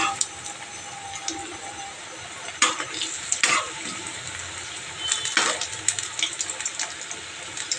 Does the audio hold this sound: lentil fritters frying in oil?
yes